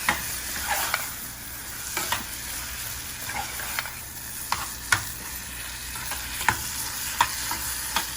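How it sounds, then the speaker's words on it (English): Salsa for huevos rancheros fries and sizzles in a pan, a steady crackling hiss broken by sharp pops and occasional scrapes of stirring, fairly close with no one speaking. "we're gonna go ahead and cook the salsa for a little bit"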